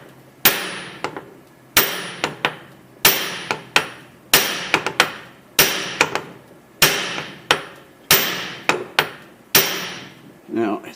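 A hammer strikes a metal intermediate shaft joint on a 2009 Ram 1500 4x4 about a dozen times in a loose, repeated rhythm, each sharp ringing clang decaying quickly, close and loud with no talk.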